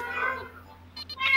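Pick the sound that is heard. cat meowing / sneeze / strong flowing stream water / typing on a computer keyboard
cat meowing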